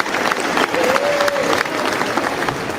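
Applause in a legislative chamber, a dense steady clatter of many hands sustained throughout, with a faint tonal whistle-like line drifting through the middle.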